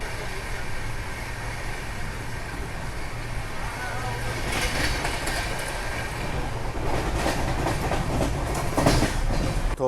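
Passenger train running on the rails between Bhubaneswar and Puri, a steady rolling rumble heard from on board with rhythmic wheel clicks growing stronger toward the end, and no talk over it.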